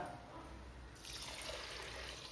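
Water pours into a cooking pot for rice, a quiet trickle that swells into a fuller, steady rushing stream after the first second, close by with no talk.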